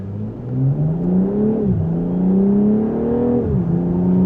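A 2026 BMW M440i Gran Coupe engine revs up under acceleration, its pitch climbing, then dipping briefly twice as the automatic transmission shifts gears before rising again.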